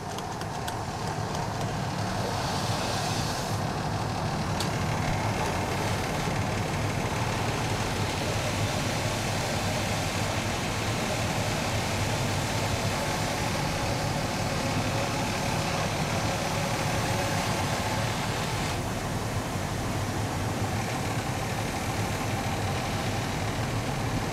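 A fire engine's pump engine runs as a discharge valve is opened, giving a loud, steady, low rumbling drone with a broad mechanical roar that holds without break throughout.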